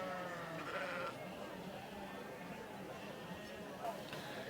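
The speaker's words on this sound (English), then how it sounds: "I'm surrounded by sheep here, and they're all just about getting the championships going at the same time" Sheep bleating repeatedly amid a busy livestock show ring during championship judging at an agricultural show, with people chattering throughout and a steady crowd hum underneath.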